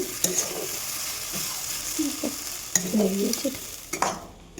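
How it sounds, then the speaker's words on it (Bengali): Leafy greens seasoned with salt and turmeric are stirred in a frying pan, a low sizzle broken by irregular scraping and clinking strokes of the utensil against the pan. "একটু ভালো করে নেড়ে চেড়ে নেব।"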